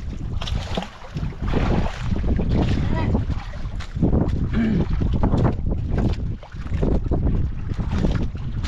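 Strong wind roars and buffets steadily across the whole stretch, with broadband gusts rising and falling, likely out on open water.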